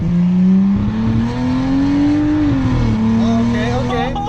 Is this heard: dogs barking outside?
no